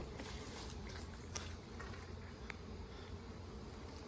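Dense honey bee buzzing rises from an opened hive in a beekeeper's inspection, a steady close hum with faint handling clicks and no talk.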